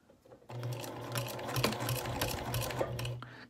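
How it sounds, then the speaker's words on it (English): A sewing machine runs a few stitches and a backstitch through a vinyl project bag: a steady, close mechanical whir with rapid needle chatter for about three seconds after a short quiet start, with no voice. "I'm going to sew a few stitches and then backstitch to hold that fold"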